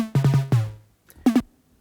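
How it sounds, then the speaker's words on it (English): A track run through a harsh Quantize distortion plugin, with short gritty bursts of heavily degraded tone in a choppy rhythm, a gap of near silence, then two more crunchy stabs, loud and upfront. "most aggressive form of distortion available in the distortion plugin, Quantize, which adds this sound"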